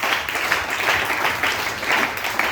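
A church congregation applauding together, a dense steady wash of many hands clapping at close range for a few seconds with no talking.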